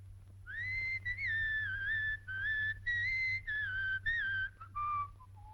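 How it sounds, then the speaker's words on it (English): A person whistles a tune in clear, sustained melodic phrases with brief breaths between them, heard alone over a faint low hum. "That whistle. It gets my teeth on edge."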